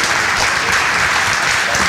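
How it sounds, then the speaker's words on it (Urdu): An audience at a mushaira poetry gathering in Frankfurt gives a poet an enthusiastic welcome with loud, dense, continuous applause that sounds close and unbroken throughout. "محفل کے روح رواں کا بڑے جوش و خروش اور بھرپور تالیوں کی گونج میں استقبال کیا گیا"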